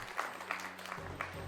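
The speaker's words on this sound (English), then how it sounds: "I need the applause and approval." Short burst of applause with scattered hand claps over a low background hum, fairly quiet and steady, in a gaming livestream setting.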